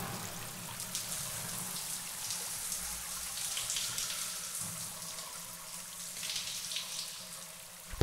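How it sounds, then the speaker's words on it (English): Shower water running steadily after a wall button is pressed, a soft continuous hiss of spray and falling droplets, fairly even and heard alone with a small knock at the end. "And when you press it, the water begins to flow."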